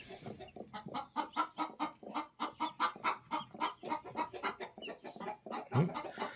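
A hen sits on hatching eggs and clucks in a steady run of close, rhythmic clucks, with a deeper squawk near the end.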